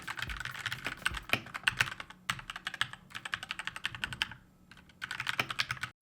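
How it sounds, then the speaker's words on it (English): Rapid clicky typing on an aluminum-build mechanical keyboard, close and crisp, in bursts of keystrokes separated by short pauses. "It's an aluminum build and the keys sound amazing."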